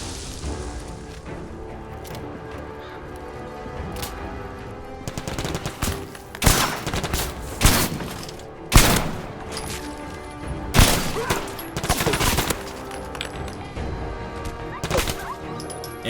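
Gunfire in the video game Fallout 4, a run of sharp loud shots with several bursts spaced a second or two apart, each followed by a crashing echo, over a steady low background bed.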